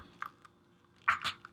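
A McFarlane Johnny Silverhand action figure's ratchet ab-crunch joint clicks as it is bent, a few faint close ticks followed by two louder crisp clicks near the end.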